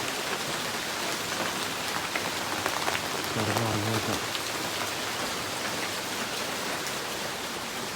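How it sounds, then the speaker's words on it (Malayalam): Steady heavy rain pours down, a dense continuous hiss of drops drumming on surfaces, with a brief low murmur partway through. "പുറത്ത് നല്ല അത്യാവശ്യം നല്ല മഴ പെയ്യുന്നുണ്ട്"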